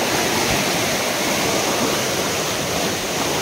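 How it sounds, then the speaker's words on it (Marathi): Rushing floodwater from torrential rain over farm fields roars loudly and continuously, a dense broadband churn of water with no voices, steady from start to finish. "पाणी बघा, खतरनाक भरपूर आहे पाणी."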